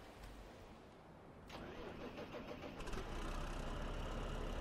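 New Holland tractor engine in Farming Simulator 2015 cranking over and catching, then settling into a steady, loud mid-pitched running rumble with no talk.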